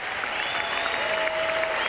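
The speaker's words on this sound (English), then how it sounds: "a nice round of applause for Florian Mayer" Steady crowd applause from a tennis stadium crowd at the 2004 US Open, greeting Florian Mayer after his match against Andre Agassi; dense, even clapping throughout with a faint whistle-like tone running beneath.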